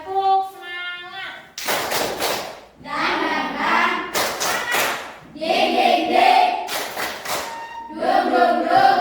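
A class group standing and doing a rhythmic spirit clap routine, loud sharp bursts of clapping in patterned sets alternating with children chanting and a teacher's voice.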